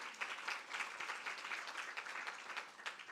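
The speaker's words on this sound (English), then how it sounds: "Can we clap our hands for that?" An audience at an International Women's Day round table claps together in a short, even burst of applause, moderately distant and soft, with no talking over it.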